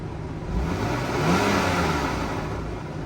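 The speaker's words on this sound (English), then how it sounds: "I'll rev it up again. You guys tell me." A car engine revving at a Copart salvage auction lot, one steady rise and hold of engine roar lasting a few seconds, close and fairly loud with no talking.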